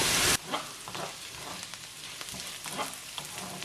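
Dried red chillies frying in a pan with vegetables for upma, a steady low crackle and sizzle with soft stirring taps, after a brief loud burst at the start.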